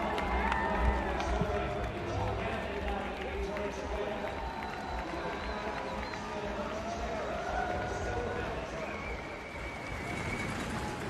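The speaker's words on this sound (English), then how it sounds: "And the crowds respond once more, banging the boards at the side of the course." Spectators lining the Commonwealth Games 2022 men's marathon course cheering and banging the boards, a busy, distant-sounding crowd din with scattered knocks, heard under a commentator's voice.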